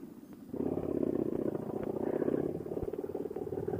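A Harley-Davidson V-Rod Night Rod Special motorcycle setting off on a ride, its engine rising into a steady, close, rumbling drone after a quieter idle.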